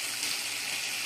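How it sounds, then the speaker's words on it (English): Mushrooms sauteing in a pan, a steady, faint, hissing sizzle that stays even throughout without breaks. "sauteing up these lovely mushrooms"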